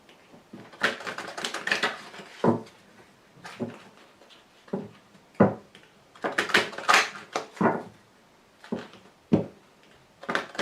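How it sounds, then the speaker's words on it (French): Oracle cards being drawn and handled during a tarot-style reading, a run of crisp papery slides, taps and flicks in scattered bursts, close and moderately loud, with no talk. "Alors je tire également une carte de l'archange Gabriel."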